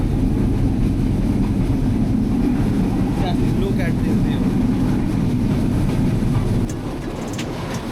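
Riding the Silk City Express from Dhaka to Rajshahi, a loud constant roar of rolling carriages fills the whole stretch, easing slightly toward the end.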